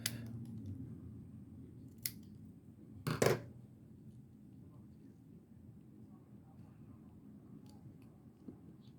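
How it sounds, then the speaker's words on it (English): Scissors snip through paper side pieces during a miniature craft project, giving a single short crisp cut over quiet room tone with light background noise. "Cut those side pieces off."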